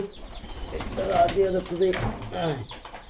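Pigeons coo in low, rolling calls close by, with bursts of wing flapping, while a person talks over them.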